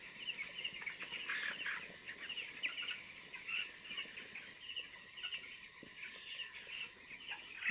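Broiler chickens on day 17 cluck softly while pecking at feed in a shed, a faint continuous murmur of overlapping bird calls with scattered small scratching sounds.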